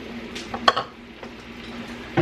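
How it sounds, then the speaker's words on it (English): Quiet scraping and clinking of a utensil against a pan while stir-frying shrimp and snow peas, a few light metallic taps with faint sizzling in between. "It's just kind of like stir frying this together just for a quick couple minutes"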